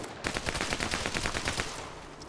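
Rapid burst of about a dozen evenly spaced gunshots from an Arma PvP match, sharp cracks in quick rhythm, fairly close and loud, with a brief tail afterward.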